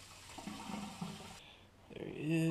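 Tap water runs and splashes into a dog's water bowl indoors, close and steady, then rises in pitch as the bowl fills near the end.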